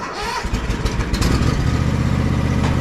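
A tractor engine runs steadily at close range, a low continuous rumble that grows louder and firmer partway through, with some clunks at the start.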